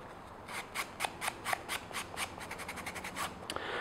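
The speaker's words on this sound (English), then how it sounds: "come back in with some sandpaper, kind of soften up a little bit." Sandpaper rubbed by hand over a foam helmet makes a steady series of close, dry scratching strokes. The strokes come quicker toward the end, with no talking.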